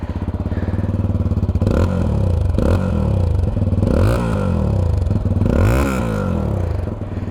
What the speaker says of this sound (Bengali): এই মাফলারের সাউন্ড হচ্ছে বেস্ট